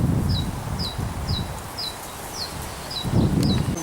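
Shrill, repeated chirps from small birds nesting among reeds ring out at a steady rhythm, roughly eight short calls, over rustling and low background noise.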